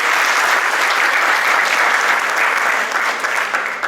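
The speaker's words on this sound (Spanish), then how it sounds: "Un aplauso para ella." Loud, dense applause from a forum audience in Lima greeting a panelist, a continuous wash of many hands clapping at close range, easing slightly near the end.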